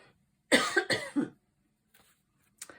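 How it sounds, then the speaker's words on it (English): A few dry coughs in quick succession close to the mic, followed by quiet, faint throat sounds after a pause. "Excuse me, I'm going to cough."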